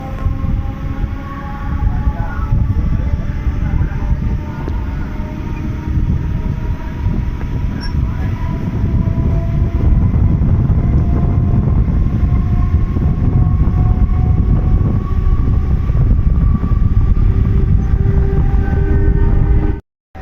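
Digha Express rumbles along from Howrah toward Panskura, a loud, unbroken roar of wheels and carriages with faint squealing tones, heard from on board until it cuts off abruptly at the end.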